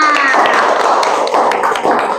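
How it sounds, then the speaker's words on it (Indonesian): Classroom of students at an Islamic high school clapping together, a brief burst of dense, close applause with a voice speaking briefly at the start. "tepuk tangan untuk kita semua"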